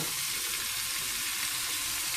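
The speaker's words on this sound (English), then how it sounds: "I'm going to add my onions and" Onions and sweet pepper hit hot oil in a pan for stewed chicken, giving a steady, close, loud sizzle of frying with no talking over it.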